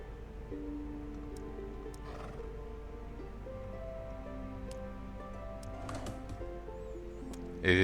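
A horse neighs in the video game The Black Grimoire: Cursebreaker, a tonal whinny set over quiet ambient music with light ticking and a soft clip-clop.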